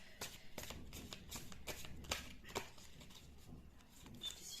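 Oracle cards shuffle by hand in a series of soft, close riffles and taps, fairly quiet against a faint room background with no speech.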